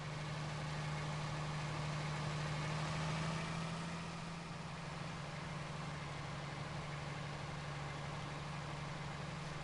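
A harvester engine idles in a farming video game on a potato harvest map, giving a steady, loud low drone that holds evenly throughout with no talking.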